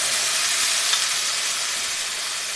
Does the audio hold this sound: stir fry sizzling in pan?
yes